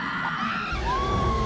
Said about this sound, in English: Pretty sure I just lost an imp there. I heard one of their death screams.